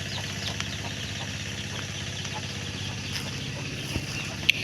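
A hen with twelve new chicks on a small poultry farm, a dense, steady bed of peeping and clucking with a few sharper chirps, close by and continuous.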